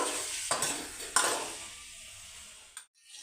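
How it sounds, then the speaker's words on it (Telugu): Eggs cooking in a pan with salt and turmeric give a soft, steady sizzle broken by a few scraping stirs, fading into near quiet at the end; no one speaks. "మనకైతే గుడ్లు కూడా ఏగిపోయాయి"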